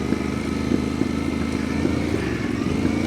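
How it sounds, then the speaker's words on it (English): An adventure motorcycle idles with a low, steady rumble, and small pops from the exhaust recur every half second or so. "A bit of popping off the exhaust, or sucking a bit of air."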